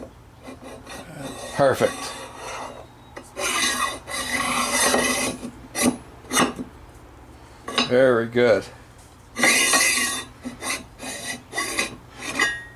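A hand file deburrs a freshly machined metal part for a tapping fixture, giving repeated close rasping strokes in uneven bursts with brief pauses, and someone speaks a few words between strokes.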